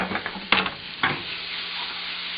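Pear sizzles in a pan with sage, butter and garlic, a constant close hiss broken by a couple of sharp scraping stirs near the start.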